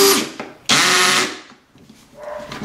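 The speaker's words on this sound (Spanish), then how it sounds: "Taladro y rotomartillo" A Bosch GSB 18V-EC cordless drill whirs in short bursts, one long high-pitched spin in the middle, close up and loud, then quieter motor sounds.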